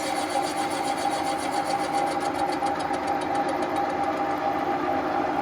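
A machine tool turning at 400 rpm while machining a 1938 DKW crankcase, giving a steady, even mechanical hum with a faint rapid rhythmic ticking throughout, close and continuous.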